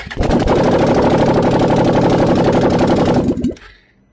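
A 2021 Can-Am Outlander 850 XMR ATV runs with its exhaust headers removed, giving a loud, harsh, rapid-firing engine clatter at steady speed for about three seconds before it cuts off and dies away.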